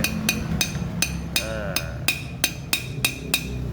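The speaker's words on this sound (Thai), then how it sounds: "การนำลูกปืนออกมาแล้วก็ตอกแบบนี้นะครับกด ตอกลงไปเรื่อย ๆ นะครับ" A gearbox bearing is driven into place with an old-school hammering method: about ten sharp, ringing metal strikes in a steady rhythm, close and loud over a constant low mechanical hum.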